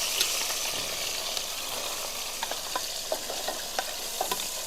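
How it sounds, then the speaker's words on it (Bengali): Small puti fish fry in hot, smoking oil in a wok, giving a steady bright sizzle broken by soft clicks and pops as pieces are turned, close and moderately loud with no voices. "এবার আমি মাছগুলো দিয়ে দেবো এক করে"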